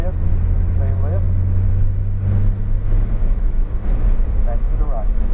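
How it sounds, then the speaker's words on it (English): A Porsche accelerates around a cone driving course, its steady engine rumble held loud and close throughout, with an instructor's voice talking over it in short bursts. "Keep accelerating toward the left."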